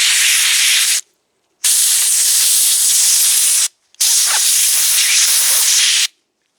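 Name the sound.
air compressor blowing out STIHL spark arrestor screens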